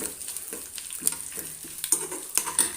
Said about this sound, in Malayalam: അതിലേക്ക് രണ്ട് മൂന്ന് വറ്റൽമുളക് കൂടി ഇട്ട് കൊടുക്കാം